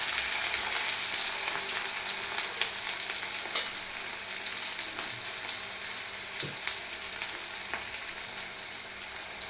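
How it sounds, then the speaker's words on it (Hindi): Green chillies and onion fry in hot oil with cumin seeds, giving a steady, bright crackling sizzle with scattered pops and a spoon knock or two, heard close and without talk. "उसके बाद में कुछ हरी मिर्च और प्याज, जिसकी कि अभी भुनाई चल रही है"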